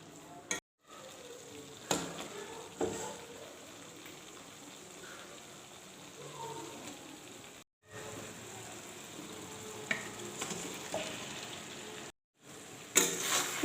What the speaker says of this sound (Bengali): এবার আমি এটাতে সব চিকেনগুলো দিয়ে দেব।